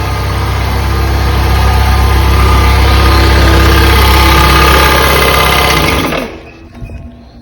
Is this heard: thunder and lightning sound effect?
no